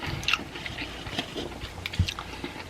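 Crunchy KFC fried chicken, fresh from the oven and still hot, being bitten and chewed up close, with a few sharp crisp crunches and soft mouth sounds spread across a short quiet stretch.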